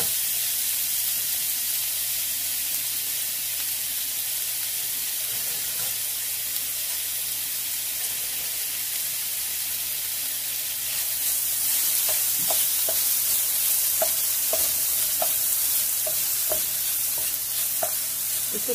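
Sliced onion frying in about two teaspoons of oil in a pan, a steady soft sizzle that brightens into crackling pops and stirring near the end.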